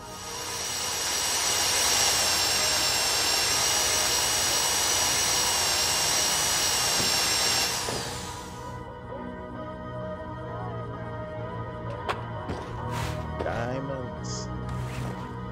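A steady high-pitched mechanical whine of a drill during a video game bank robbery runs loud for about eight seconds, then stops, leaving quieter clicks and background noise.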